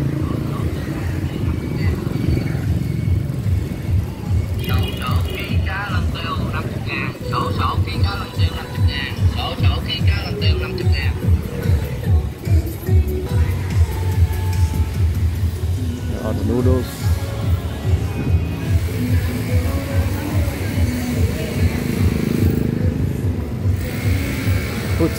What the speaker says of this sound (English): So this is the morning market.